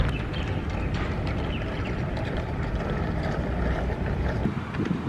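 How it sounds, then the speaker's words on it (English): The small twin electric motors of an RC fishing boat whir steadily and close by, with the pitch rising and falling as they accelerate and decelerate, over a wind-buffeted background. "Right motor acceleration and deceleration."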